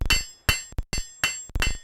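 A blacksmith in a smithy strikes hot metal on an anvil with the rounded face of a hammer to draw out lobes: loud, close, ringing metallic blows in an even rhythm, each heavy strike followed by a lighter rebound tap.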